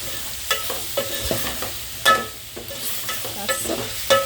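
A spoon stirs coriander powder into a sizzling cauliflower curry in a pan, with repeated close scrapes and knocks against the pan over a constant frying hiss.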